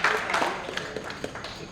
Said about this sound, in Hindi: तालियां सानिया के लिए।